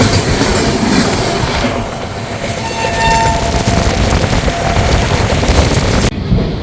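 Darjeeling Mail express train rolling steadily on rails after pulling out of Kishanganj station, a continuous loud rumble with rhythmic clatter and brief faint wheel squeals, heard from inside a general class coach.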